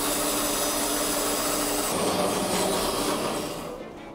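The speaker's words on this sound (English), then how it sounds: "first I have to go back to the bandsaw and cut off like some of the corners here" Bandsaw cutting the corners off a block of leftover epoxy resin, a loud steady whirring drone with a rough grinding edge that changes pitch partway through, then winds down and fades at the end.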